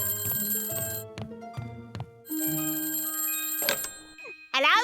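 A mobile phone ringing in a cartoon scene, with a run of repeated bright electronic ring tones, then a sustained tone and a rising chirp, close and clear.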